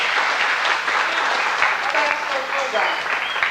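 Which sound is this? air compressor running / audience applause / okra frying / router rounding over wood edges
audience applause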